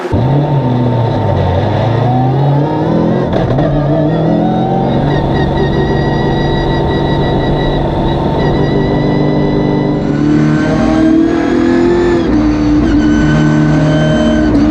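ASA 6000 class race cars at the 2019 Super Race round 6 roar on track during the engine-start position lap. The loud, continuous engine drone shifts in pitch as the cars rev and pass close by.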